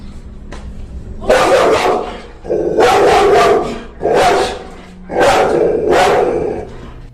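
A pitbull barks loudly and close by in repeated bursts, harsh barks with short gaps between them and no talking over them.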